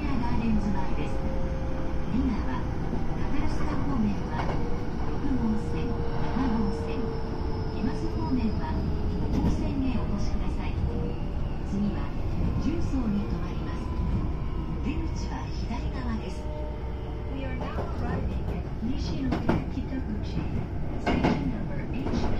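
A Hanshin/Hankyu-area commuter train runs toward Nishinomiya-kitaguchi station, with a steady rolling rumble, wheel clatter and interior hum heard from inside the car, while someone narrates over it throughout.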